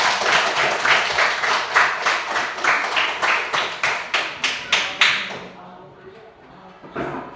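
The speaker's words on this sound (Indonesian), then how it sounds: "kita berikan aplaus untuk kita semua" A group of schoolchildren and adults claps loudly in a fast, steady unison rhythm for about five seconds. The clapping then fades, and a voice can be heard afterward.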